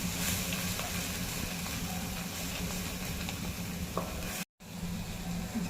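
Ground peanut and coconut masala sautéing in a pan for a Konkan-style stuffed brinjal dish, a steady low sizzle with light stirring scrapes, close and fairly quiet, with a brief gap near the end.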